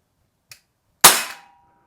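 KWC 24/7 blowback CO2 BB pistol fired outdoors: a faint click, then a single sharp, loud pop with a short decaying tail.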